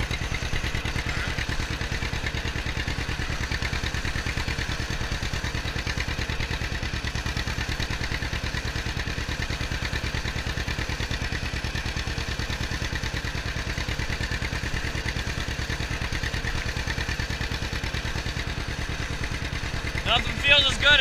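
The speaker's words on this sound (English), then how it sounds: "Nothing feels as good as taking a ride on the John Deere." A 1954 John Deere Model 60 tractor engine runs continuously close by with an even, pulsing idle-like thump that holds steady throughout.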